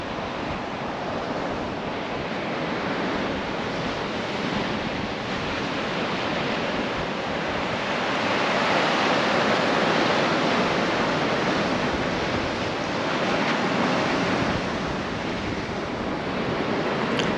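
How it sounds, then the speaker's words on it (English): Ocean waves wash onto a beach in a continuous broad roar of surf, with some wind buffeting the microphone and no voices. "Yeah, the waves are great."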